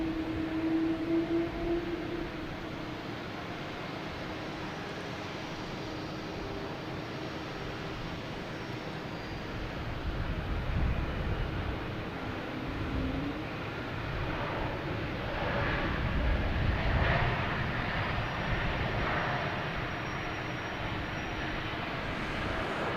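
JetBlue airliner inbound from Philadelphia approaching Boston Logan Airport, a moderate distant engine rumble that swells gradually toward the end, with no voices.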